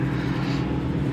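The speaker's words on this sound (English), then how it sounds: "One of my favorite things about the GT350 is how loud it is" A Ford Mustang GT350 engine roaring loud and steady, a dense continuous low drone with no breaks, heard up close and alone.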